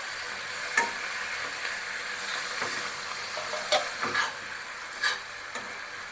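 Spinach, tomato and mixed vegetables steam and sizzle softly in a pan while a spatula turns them, giving a few scattered scraping clicks over a steady hiss, with no talking.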